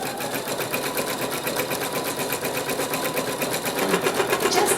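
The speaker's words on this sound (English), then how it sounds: "I will go ahead and stitch it out just for good measure" Embroidery machine stitching a placement line for an owl mug rug, a fast, steady mechanical chatter of needle strokes close up that grows slightly louder toward the end, with no speech.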